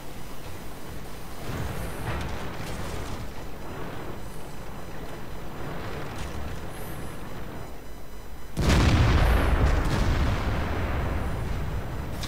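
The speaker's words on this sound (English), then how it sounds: "I hear KV-1 shooting." A KV-1 heavy tank's main gun fires in World of Tanks: a sudden loud, booming blast near the end cuts through a steady rumble of engine and battle noise, with quieter distant shots earlier.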